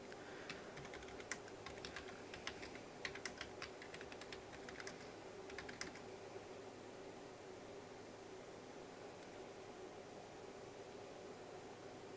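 Quick keystrokes on a computer keyboard tap out in a short flurry, faint against steady room hiss, then stop and leave only the hum.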